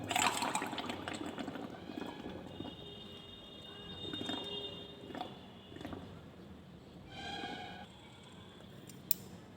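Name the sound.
blowing carbon dioxide through a pipe into lime water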